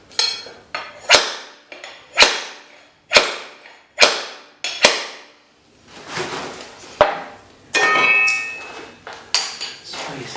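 Sharp percussive taps of a pull bar tool knocking the last laminate floor board into place, a series of about eight loud close hits with short ringing decays, followed by shuffling and clattering handling noise.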